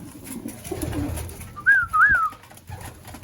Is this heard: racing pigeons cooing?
yes